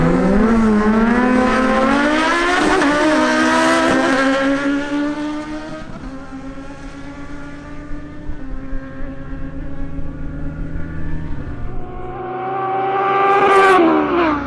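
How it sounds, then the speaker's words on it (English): A Kawasaki Z900 and a Kawasaki Ninja Z1000SX drag racing side by side, loud engines screaming up through rising gear pulls with audible shifts, fading slightly midway, then revving hard again near the end. "The next duel is between Wilson Mejia on his Kawasaki Z900 and Jamie Dorado on his Kawasaki Ninja Z1000SX."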